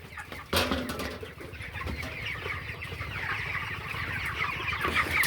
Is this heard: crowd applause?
no